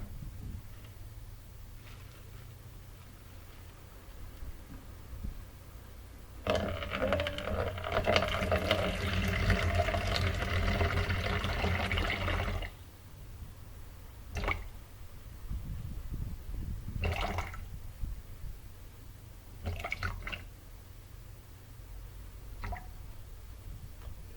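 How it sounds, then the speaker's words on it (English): Distilled water pours steadily into a container for several seconds during cold process soap making, followed by a few scattered splashes and drips. "what I'm doing now is I'm about to measure my distilled water."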